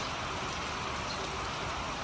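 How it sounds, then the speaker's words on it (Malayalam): Heavy evening rain at Kedarnath, a steady, even wash of hiss, fairly faint and continuous, with no talking. "വൈകിട്ട് ഇവിടെ നല്ല മഴയാണ്"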